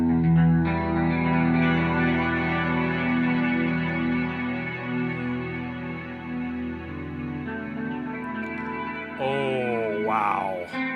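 An electric guitar through an effects unit set to cinema mode, dialed toward an 80s movie rock sound: a held, chorus-thick and slightly distorted chord washing on with echo, then a wobbling pitch-bent swell near the end.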